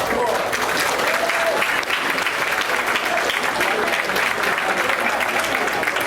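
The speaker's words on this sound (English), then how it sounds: "One more round of applause for our peer buddies." An audience at a school board meeting applauds, a dense, steady wash of clapping that holds at an even level for several seconds.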